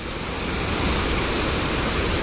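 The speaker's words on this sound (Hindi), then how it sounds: "पानी का फ्लो देखो" Fast water rushing in a stream in the middle of a jungle during heavy rain, a loud, dense, unbroken roar and hiss that holds steady throughout with no voices.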